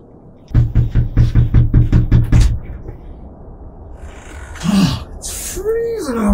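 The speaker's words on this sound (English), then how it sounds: "There's someone at the door." Rapid series of about ten sharp knocks on a door, loud and close, followed by quieter room sounds and a voice speaking.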